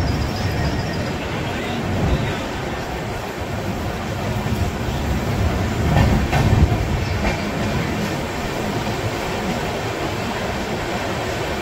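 A passenger train departs Durgapur station at night on a long-distance route to Amritsar, a steady rumbling roar on the rails with faint clickety-clack, loud and continuous throughout.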